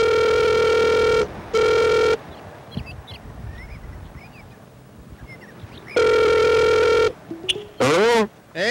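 A telephone rings while calling Dan Dobler, with loud buzzing harmonic ring bursts: two close together, a long quiet pause, then another, followed by brief warbling voice-like sounds.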